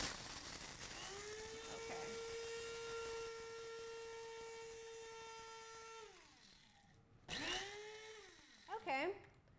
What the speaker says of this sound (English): we're gonna go ahead and grind this flaxseed right now